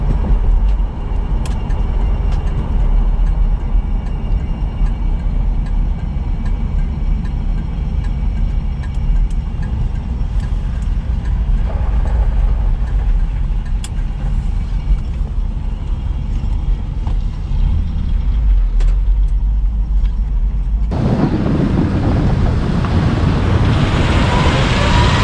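A 1973 Chevelle SS 454 with a four-speed Muncie idles steadily through a rusty original muffler, a continuous low rumble close by with some wind noise, shifting to a brighter, harsher tone near the end.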